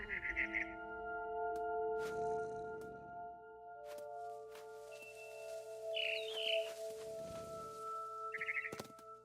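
A barn swallow chirping outside a window in the video game What Remains of Edith Finch, with three short bursts of bright twittering over soft humming tones and background rumbles.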